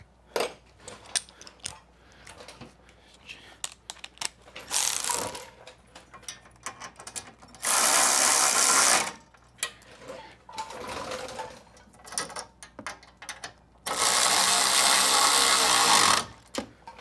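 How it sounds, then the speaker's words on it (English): Electric ratchet running bolts into brackets during a Whipple supercharger install on a 2023 Silverado, three loud buzzing whirs of one to three seconds each, separated by clicks and handling noise. "So I'm going to send a couple of these with my electronic ratchet."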